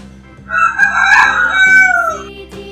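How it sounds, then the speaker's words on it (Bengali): A chicken crows once, loud and close, in a drawn-out, rising-then-falling call that lasts about two seconds against a quiet background. "এটা হলো হেন, HEN। হেন মানে মুরগি।"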